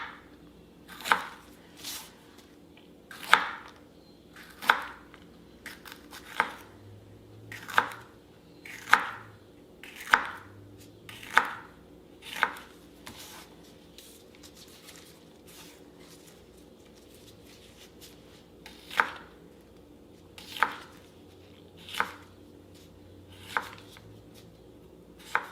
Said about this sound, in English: I'm going to slice these up.